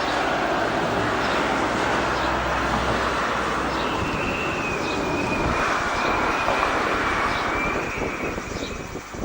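A firefighting aircraft flies over a wildfire, and its loud engine drone holds steadily throughout. It sits over a broad rumble and a thin high whine that rises and then fades near the end.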